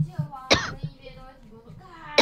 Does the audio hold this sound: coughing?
yes